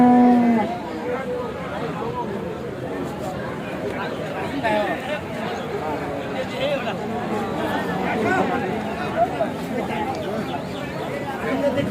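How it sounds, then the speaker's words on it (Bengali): Bull water buffaloes at a busy rural livestock market low and grunt amid a steady crowd babble, with people talking nearby throughout. "এগুলি ষাঁড় মহিষ, মূলত এগুলি ষাঁড় মহিষ।"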